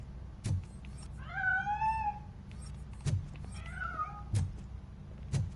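A cat hiding inside a piano gives two long, drawn-out meows between sharp knocking or tapping thumps, close and fairly clear against a low background rumble.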